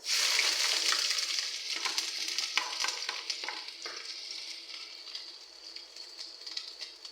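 Ginger sautéing in hot oil in a wok-style pan for dinuguan, a bright, steady sizzle with crackles and stirring scrapes, strongest at the start and easing slightly.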